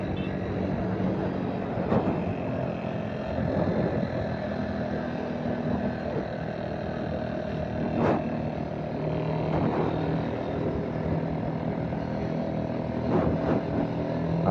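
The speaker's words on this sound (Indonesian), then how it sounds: "Atau temannya depan saya ini ada motor Mio, suaranya agak sedikit berisik." A Yamaha Mio motorcycle rides in morning city traffic near Kampung Bandan, its somewhat noisy engine a steady droning hum with passing vehicle noise and occasional louder swells throughout.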